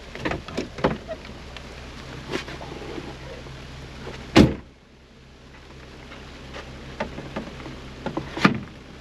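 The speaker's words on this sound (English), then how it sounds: "I think we're going to stop and put our windows on." Plastic windows are fitted onto the half doors of an off-road vehicle stopped on a summer trail in rain, with scattered knocks, rattles and two sharp clunks over a steady soft hiss.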